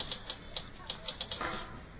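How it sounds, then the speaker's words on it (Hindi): A typewriter clacks out a story in an animated Hindi series, with a steady run of quick, crisp key strikes, fairly close and alone. "युग के पिता ने टाइपराइटर पर कहानी टाइप करते हुए कहा।"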